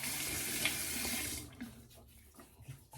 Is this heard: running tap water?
yes